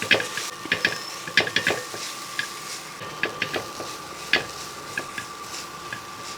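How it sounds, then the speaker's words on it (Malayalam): A spoon scrapes and stirs flattened rice with fresh coconut in ghee in a pan, giving soft irregular clinks and scraping strokes over a gentle sizzle and a steady background hum. "ഇനി ഇതൊന്ന് ഇളക്കി കൊടുക്കാം കാരണം ഇതിൻ്റെ അകത്ത് നെയ്യുണ്ടല്ലോ"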